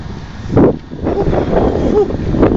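Gusts of cold wind buffet the microphone in loud, rumbling bursts, rising and falling over a few seconds, in Saudi Arabia.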